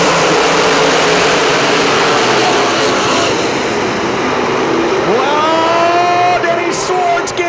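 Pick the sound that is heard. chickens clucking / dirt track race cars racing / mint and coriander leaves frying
dirt track race cars racing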